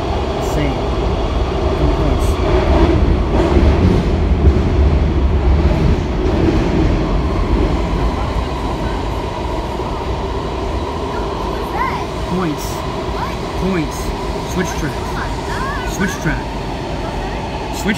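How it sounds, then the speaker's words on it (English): A Kawasaki-built metro train rumbles steadily along the track with a low mechanical drone and faint clatter, while a person talks over it. "The trains sound like they kind of like a London Underground"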